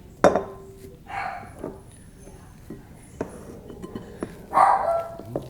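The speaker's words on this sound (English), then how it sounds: "I got my puppy barking at me for some reason." A small dog gives a few sharp, high barks spaced apart, with light clinking and handling noises in between.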